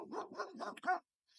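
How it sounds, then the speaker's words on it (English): A small dog gives a quick run of four or five light barks and yips, fairly close and clear, then falls quiet before a faint final yelp. "So look at this cute dog."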